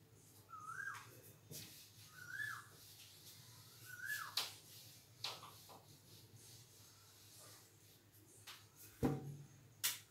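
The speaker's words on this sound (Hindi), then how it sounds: "कोयल भी बोल रही बगल में," An Asian koel calls from close by in the early morning, three rising whistled notes in the first half, then scattered clicks, taps and handling noises in a quiet room.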